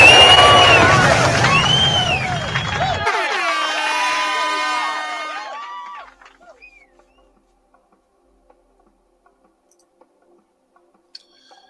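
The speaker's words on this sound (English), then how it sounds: "Give him some noise. Hand clap." A canned crowd-cheering and hand-clap sound effect plays loud over a podcast, shouting voices and whoops fading out after about six seconds into near silence with a few faint clicks.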